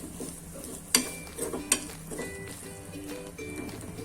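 Fennel seeds, sesame and crushed peanuts are stirred together in a pan for stuffed sambhariya chillies, with a soft continuous sizzle punctuated by a few sharp spoon clinks against the metal, close by and fairly quiet.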